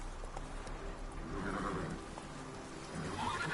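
Roach, the horse in The Witcher 3: Wild Hunt, lets out a neigh over the clip-clop of hooves, the whinny rising mid-way against steady outdoor ambience.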